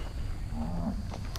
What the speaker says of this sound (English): These cows seem to have escaped from their field.